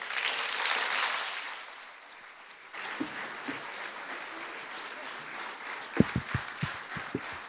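Applause from an audience at a joint municipal council meeting after a speech, a dense wash of clapping that fades, followed by scattered sharper claps and some background murmur.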